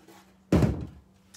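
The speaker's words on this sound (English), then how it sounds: "I'm going to pull this drawer out." A wooden drawer being pulled out, giving one close, solid thunk with a short rumbling slide that fades over about half a second in an otherwise quiet room.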